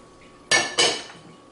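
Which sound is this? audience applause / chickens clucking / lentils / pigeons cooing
lentils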